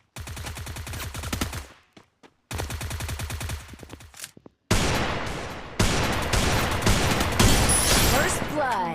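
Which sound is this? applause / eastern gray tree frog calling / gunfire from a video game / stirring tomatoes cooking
gunfire from a video game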